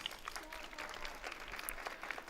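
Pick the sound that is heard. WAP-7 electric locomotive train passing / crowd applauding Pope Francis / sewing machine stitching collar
crowd applauding Pope Francis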